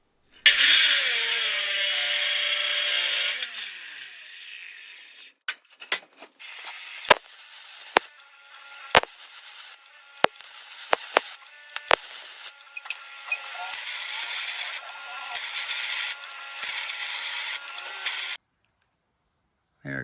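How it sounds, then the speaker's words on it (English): Steel tubing for a Dana 44 crossover high-steer kit is cut with a power tool, giving a loud, steady grinding whine for several seconds, then scattered sharp knocks and clanks, and another long stretch of cutting noise nearby with no talk. "So we're gonna cut some tubing."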